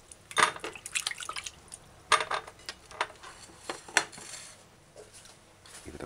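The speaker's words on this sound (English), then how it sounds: "just gonna wash your pumpkin off on the running water" Pumpkin rinsed under fresh running tap water in a kitchen, a quiet trickle and splash broken by sharp clinks and knocks against a sink or pan, heard close without talk.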